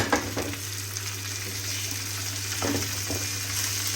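Chopped okra sizzles in a pan with already-cooked onions, a steady crackling fry with a few louder spatters and stirring scrapes, heard alone without talk.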